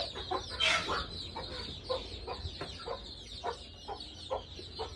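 Chickens on a rain-soaked poultry farm cluck in short, repeated bursts at moderate distance, with one louder squawk early on and no talk.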